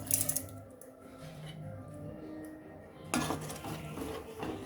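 A spoon scrapes and clinks against a metal pot as boiling kuzhambu is stirred, with a louder burst of clattering near the end.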